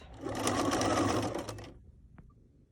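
Sewing machine stitching back and forth across overlapped elastic ends for a child's skirt, a steady close whir for about a second and a half before stopping, with no talking.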